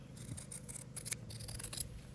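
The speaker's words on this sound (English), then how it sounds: "I'm going to cut my patch to fit" Scissors snip through a fabric patch cut to size for mending a clothing tear, giving a run of quick, close, crisp cuts with no talking.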